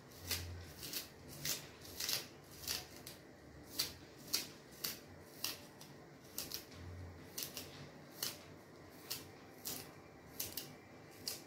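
Callaloo greens are cut for a Jamaican callaloo-and-saltfish dish in a steady series of crisp snips, repeated about every half second, quiet and close, with no talk.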